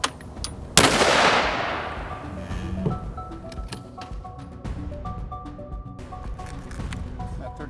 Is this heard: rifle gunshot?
yes